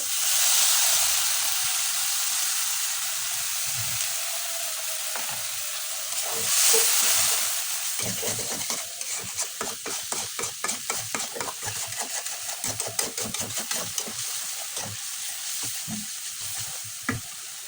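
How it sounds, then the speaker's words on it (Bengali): Beef with spices sizzles loudly in a pan while cooking down in a restaurant-style bhuna, first as a steady hiss, then with quick, repeated scraping stir strokes through the second half. "আমরা এখন এটাকে কষিয়ে নিব।"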